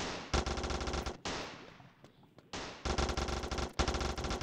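Machine gun fire from a video game boss battle rattles in loud, dense bursts, broken by short pauses and one longer gap with a trailing echo.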